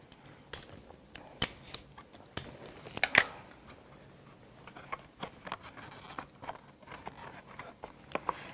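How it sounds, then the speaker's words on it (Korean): Several short strips of adhesive tape ripped from the roll during a classroom paper-box craft demonstration, giving sharp scattered rasping tears and crackles, close and fairly quiet, with no talk. "선생님 테이프를 몇 개 뜯어놓을게요"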